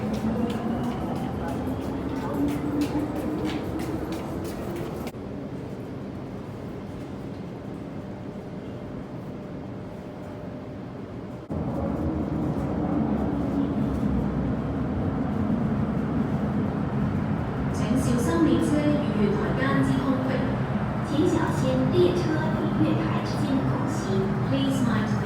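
A steady rumble from an MTR train at Quarry Bay station fills the space, dropping to a quieter hum partway through, then swelling louder with clattering rail noise and faint voices in the background.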